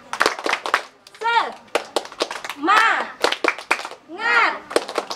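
Children at a fifth birthday party perform a rhythmic group clap in sharp bursts, mixed with lively children's voices chanting between the claps.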